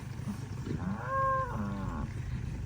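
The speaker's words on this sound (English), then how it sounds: "you can probably hear the cows." A cow moos once at a campsite on a rural station, a drawn-out lowing call of moderate loudness set against steady outdoor background noise.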